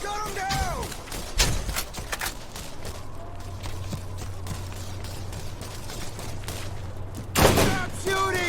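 Bursts of gunfire from the video game Borderlands, with scattered shots and impacts over a low steady drone, a heavier blast near the end; no voices heard.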